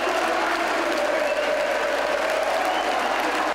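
Crowd of volleyball fans applauding and cheering at a Taubaté match in an indoor arena, a steady, loud wash of clapping and voices lasting throughout without pause.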